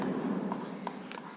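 Writing on a classroom board during a Hindi-language English grammar lesson, a steady scratchy scraping of strokes with a few brief tapping accents, close and continuous for just over a second with no talking.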